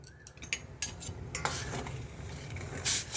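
A spoon stirs sugar syrup in a pot for rosh bora, giving close scraping and clinking with a soft sizzling bubble underneath, steady for a few seconds with no talk.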